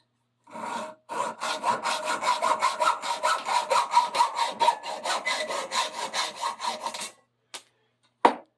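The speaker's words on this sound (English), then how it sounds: "that'll hold the pipe nice and tight while I saw it" A hacksaw cuts through a metal oil-lamp pipe clamped tight in a vise, giving a close, loud run of rapid, even back-and-forth rasping strokes for about six seconds, then a brief pause, a lone scrape and a final sharp clink.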